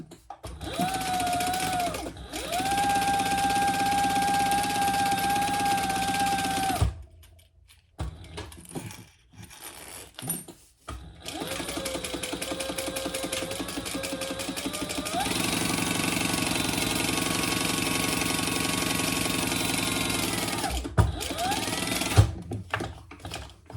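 A sewing machine stitches a sling bag in two long steady runs with a pause between, its motor humming close and even, with brief handling clatter in the gap.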